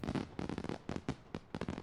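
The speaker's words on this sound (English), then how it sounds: "Couple more fireworks set out and going." New Year fireworks burst in a quick irregular series of crackling pops and bangs, faint and distant, with no voices.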